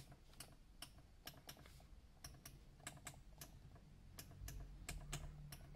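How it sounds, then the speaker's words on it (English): Accuair VU4 air suspension solenoid valves in a car click in quick, faint ticks, some single and some doubled, spaced irregularly over a quiet low hum. "Hear the clicking."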